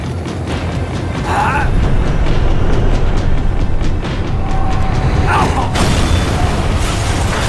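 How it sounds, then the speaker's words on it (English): Tram in Max Payne 3 slowing down, a loud continuous rumble of mechanical rattling and clanking with a faint brake squeal, close and steady throughout. "The tram was slowing down, and I'd only just gotten on board."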